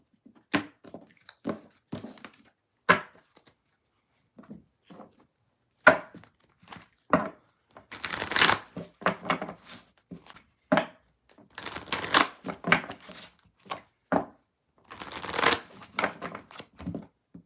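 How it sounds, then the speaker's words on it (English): Tarot cards shuffled by hand, close and crisp, in uneven bursts of riffling and sliding with short pauses, growing busier and louder in the second half. "I'm not done shuffling yet."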